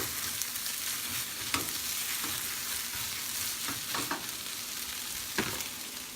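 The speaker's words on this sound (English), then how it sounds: "heat it up with the egg white and my bacon. Mix it all up." Egg white and bacon frying in a pan, a continuous close hiss of sizzling broken by intermittent scrapes and taps as they are stirred together, no talking.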